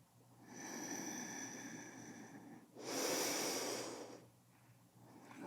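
Slow breathing during a yoga stretch: a long, steady inhale followed by a louder, rushing exhale, close and alone with no talk.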